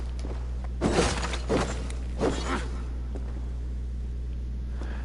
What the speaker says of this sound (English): And I enjoy smashing pottery just as much.